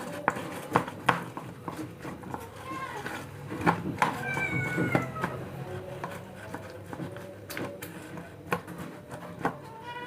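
Several cats meow repeatedly at close range, with rising and falling calls among clattering dish and feeding noises; a person's voice comes in at times.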